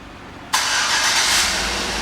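Engine of a 2009 Chevrolet Tahoe LT 4WD starting by remote start, a sudden loud crank that catches and settles into a steady close idle, with no talk.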